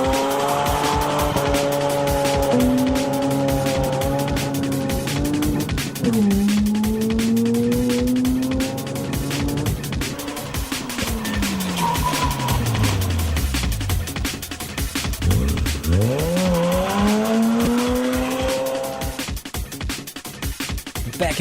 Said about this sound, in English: I can do a